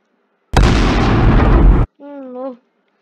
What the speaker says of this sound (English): The explosion is stuck?